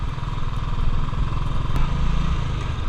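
A 2018 Royal Enfield Classic 350 Bullet motorcycle engine thumps steadily and loudly up close in a low, even beat, with no one speaking.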